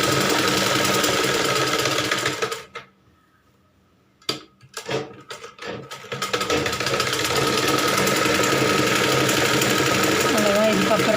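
A sewing machine stitches a blouse in rapid, continuous mechanical chatter, stopping briefly for a few seconds with some short clicks before resuming at full pace.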